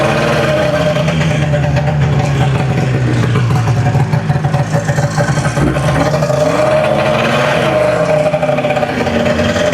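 Snowmobile engine idling after repairs, with a rough idle and a muffler that needs patching, a loud continuous close-up drone with slight wavering in pitch and no talking.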